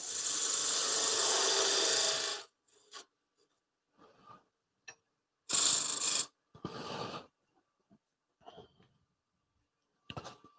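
Sandpaper rubbed against the inside lip of a wooden piece on a lathe: a loud steady rasping for a couple of seconds, then short scattered scuffs and a second firm burst, with quiet gaps between.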